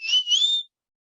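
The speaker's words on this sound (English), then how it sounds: "I love that whistle." A single clear whistle, a short two-part rising tone lasting well under a second, close and fairly loud, followed by silence.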